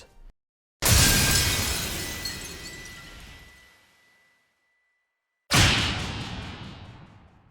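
Glass shattering effect from the Roblox game Grace: two separate loud crashes of breaking glass, each a sharp burst trailing into tinkling debris, the first fading over about three seconds before a short silence.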